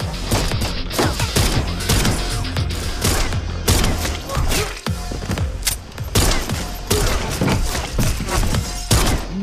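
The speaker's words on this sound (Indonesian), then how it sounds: "Fateh terus menembak hingga akhirnya berhasil membunuh semua anak buah Raza." Dense bursts of gunfire from an action film fight scene, a lone shooter firing repeatedly, loud sharp shots and rapid volleys with thuds and crashes, close and continuous across the scene.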